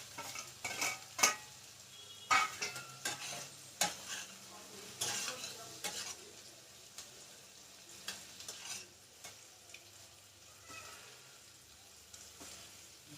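Egg being stir-fried with capsicum, onion and garlic sizzles softly in a pan, punctuated by repeated clinks and scrapes of a spatula stirring.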